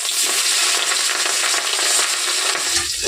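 Salted, turmeric-coated pieces of rohu fish fry in hot oil in a wok, giving a loud, dense, continuous sizzle that spits and crackles close up without pause, with no talking.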